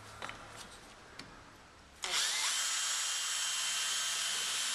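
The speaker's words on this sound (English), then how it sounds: "into the drill first goes the wider clearance hole drill" A power drill starts abruptly after a couple of faint clicks and whines steadily, close and loud, boring a clearance hole continuously to the end.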